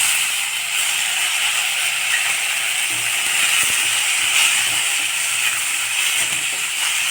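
Soaked moong dal tipped into a pan of sautéed onions for a radish stir-fry sets off a steady, close hissing sizzle that runs throughout, with faint scraping clicks underneath.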